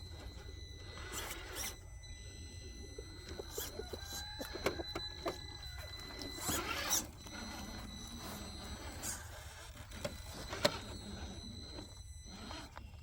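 A Hexfly budget servo on an RC crawler truck whines in short rising and falling bursts while tackling a trail obstacle, steady and fairly close over faint outdoor background noise.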